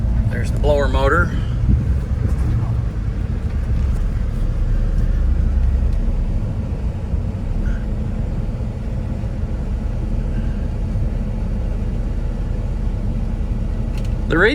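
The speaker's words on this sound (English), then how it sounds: "There's the blower motor." Blower motor running inside a 1985 Chevrolet K10 Silverado truck cabin, a steady low whooshing rumble that fills the whole stretch, with a brief voice near the start.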